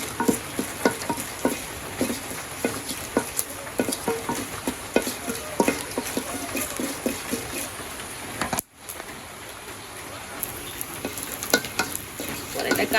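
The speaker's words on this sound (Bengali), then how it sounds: "আজকে যে আমি কড়াইতে শুকনো মরিচ দিয়ে দিছি" Dried chillies frying in a blackened kadai in a village home kitchen: a steady close sizzle with repeated scraping stirs, then a brief drop-out before the sizzling resumes.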